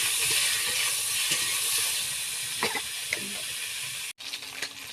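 Fish frying in hot oil in a home kitchen, a steady loud sizzle throughout with occasional spatters and stirring clinks, cutting out briefly near the end before resuming.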